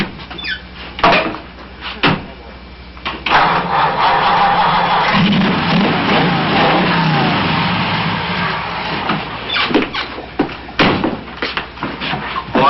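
A vintage hot rod with chromium-plated manifolds and twin carburetors cranks and catches, its engine revving loudly and roughly for several seconds before settling, with clattering bumps around it and no talk.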